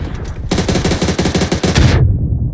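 Rapid automatic fire from an AUG rifle in the video game PUBG rattles out in a loud, fast burst of evenly spaced shots lasting about a second and a half, then stops abruptly.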